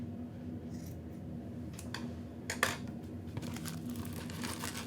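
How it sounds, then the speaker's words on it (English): Scissors snip through dreamcatcher strings to trim them shorter, making a few crisp, close cuts in quick succession over a steady low background hum. "I'm going to trim mine up a little bit shorter."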